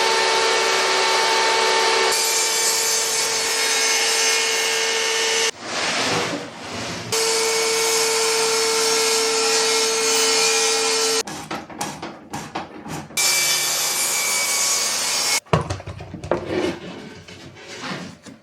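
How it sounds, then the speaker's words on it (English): A power saw cuts wood for a camp kitchen chuck box in a workshop, giving loud, sustained whining runs broken by short pauses and scraping, knocking handling noises. "I think we can try to start cutting some wood."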